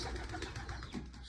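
Soft, low cooing of pigeons, a brief murmuring burst close by.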